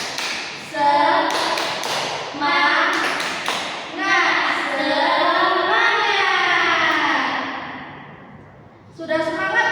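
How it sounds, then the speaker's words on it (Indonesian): Children clap the tepuk semangat chant in groups of quick sharp claps spaced between lines of a sung, spoken rhythm from a teacher and kids, close and fairly loud. "ayo sama-sama kita tepuk semangat dulu ya"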